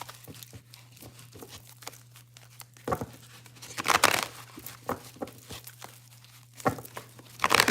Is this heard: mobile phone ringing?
no